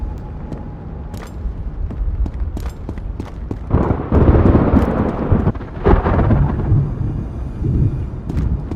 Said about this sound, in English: the thunder is so loud